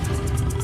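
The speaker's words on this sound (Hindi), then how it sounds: "गोलू जानवर की दहाड़ को कोसों दूर से सुनकर महसूस कर सकता था।" Tiger roar in a Hindi moral story, a short, loud, sustained growling roar with a deep rumbling body.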